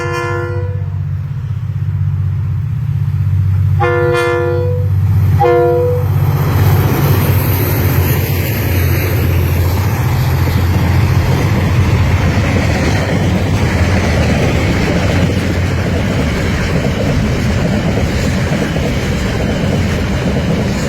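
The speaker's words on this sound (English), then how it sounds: "221 coming through Natawai here. Double DFB locos and 1 DC. Here it comes." KiwiRail freight train 221, led by two DFB diesel locomotives and one DC locomotive, sounds several horn blasts at Natawai, then roars past with a loud, sustained rumble and clatter of wagons.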